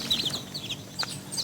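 Chicken clucking from a small coop housing a mother hen and her nine chicks, with several short high chirps and clucks scattered across a brief span, fairly close and with no voices.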